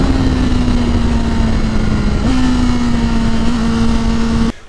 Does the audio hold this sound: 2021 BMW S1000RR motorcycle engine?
yes